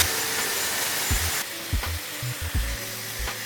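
A Dyson Airwrap hair dryer blows at its highest power, a loud continuous rushing whoosh, with soft bumps and rubbing from handling through the hair.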